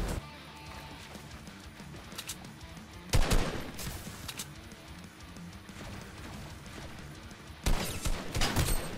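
Bursts of gunfire in the Fortnite battle royale game ring out in two loud clusters of rapid shots, with scattered quieter pops in between and no talk over them.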